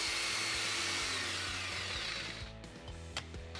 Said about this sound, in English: We have the vacuum hooked up, so no mess.